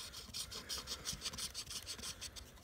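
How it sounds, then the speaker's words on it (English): A part being screwed by hand onto an airsoft laser unit with a 14mm counterclockwise thread gives a faint, rhythmic scraping and rasping of threads, repeating in short strokes, close up and quiet. "So what we do is we screw this on here,"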